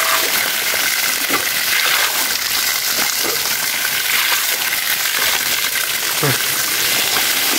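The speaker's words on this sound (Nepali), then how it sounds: "खतरा पानी आएको साथीहरू।" A strong rush of flowing water pours continuously and loudly, a dense, steady hiss with occasional splashing knocks, while faint voices sound beneath it.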